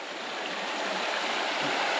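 A mountain creek in Smithgall Woods State Park near Helen, Georgia, flows in a steady, dense rushing hiss of water, close and continuous without pauses.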